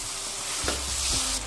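Tomato sauce hitting a hot pan and sizzling, a steady loud hiss with a brief thicker splutter and stir in the middle.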